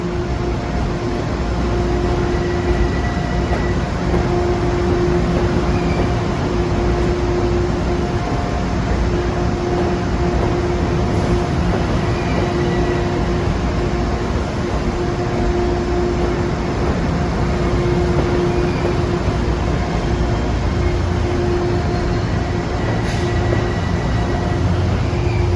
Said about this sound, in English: Train arriving, and here's diesel engine working.